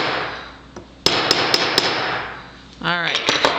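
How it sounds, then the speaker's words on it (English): A larger hammer strikes a metal tube rivet to flare it out, giving a run of sharp, evenly spaced taps. Faint talk can be heard underneath. "I'm using a bigger hammer now."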